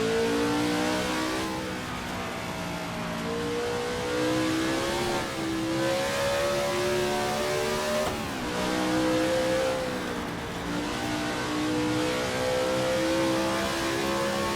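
A race car engine in a 1967 South African Grand Prix racing video game revs loudly and continuously, rising in pitch through the gears with brief dips at each shift, steady and close throughout.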